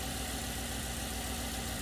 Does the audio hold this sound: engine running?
yes